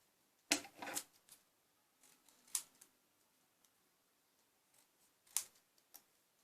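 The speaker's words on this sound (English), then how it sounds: "Cut out the extra pieces you don't need." Several crisp scissor snips through paper while trimming a papercraft figure, close and isolated, with a burst of quick cuts at the start followed by single sharp snips spaced through the quiet.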